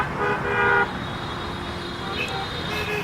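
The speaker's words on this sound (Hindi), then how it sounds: "आने जाने वाले ट्रैफिक की वजह से बड़ी डिस्टरबेंस होती है।" Busy roadside traffic rumbles steadily while a car horn toots near the start, with fainter honks later, at a birding spot where sarus cranes and lesser sand plovers gather; faint voices are mixed in.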